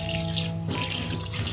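Tap water runs steadily into a sink while katla fish is washed in a home kitchen, close and continuous with a brief shift in the flow partway through.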